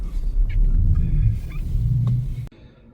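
Car rumbling low and close as it is driven into a home in snowy Canada, a steady engine drone that cuts off abruptly near the end.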